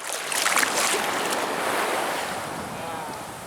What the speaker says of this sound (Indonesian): Gila, sekali ombaknya.